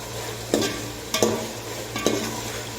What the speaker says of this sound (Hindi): इसको मज़ीद 2 से 3 मिनट भून लेते हैं